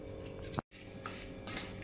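A spoon clinks and scrapes against a pot while stirring tomato ketchup ingredients with red chilli powder, salt and lemon juice; a few sharp taps stand out over a steady low scraping, close and fairly quiet, with a brief cut in the middle.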